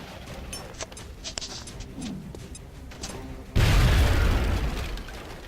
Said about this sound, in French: Envoyez la grenade sur l'ennemi qui est en face.